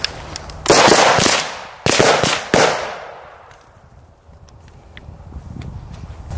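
Rifle shots fired at a target during outdoor training, three loud, sharp reports in quick succession, each with a lingering echoing tail, then quieter background noise.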